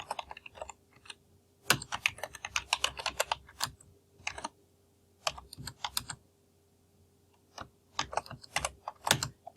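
Notes are typed on a computer keyboard, with quiet, close bursts of rapid key clicks separated by short pauses.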